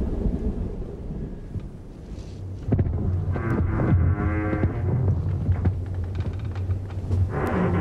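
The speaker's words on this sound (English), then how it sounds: "the first of the autumn storms set in" An autumn storm near King William Island in the Arctic, with deep rolling thunder rumbling continuously under steady wind and rain noise, loud and sustained throughout with a few sharper crackles.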